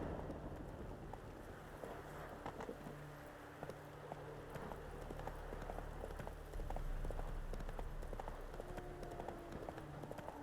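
Hooves of Roach, a horse in the video game Witcher 3, galloping in a steady rapid clip-clop over a continuous ambient game backdrop, moderately close and consistent throughout.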